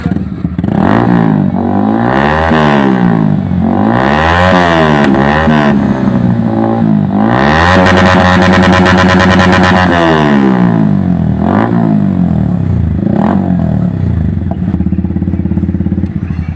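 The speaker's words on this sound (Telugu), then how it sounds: "వాళ్ళ బండి ఇప్పుడు స్టార్ట్ చేస్తే ఒకసారి చూడు అది ఎంత సౌండ్ వస్తుంది" A very loud motorcycle with a modified silencer revs repeatedly, rising and falling in sharp bursts with a harsh, rattling exhaust, close by and nonstop.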